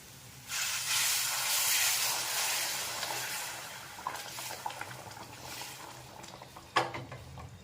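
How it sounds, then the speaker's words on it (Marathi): Hot water hits frying masala in a pan for a Marathi patvadi rassa, bursting into a loud hiss and sizzle that settles into bubbling with a few scraping clinks of a spoon. "आता आपण यामध्ये गरम पाणी टाकायचं आहे"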